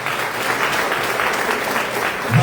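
Congregation clapping steadily throughout a Mass in a church, a dense sustained wash of applause from many hands, fairly loud and even, with no talk over it.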